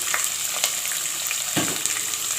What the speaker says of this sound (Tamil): வெங்காயம் சேர்த்துட்டு நல்லா வதக்கி விடுங்க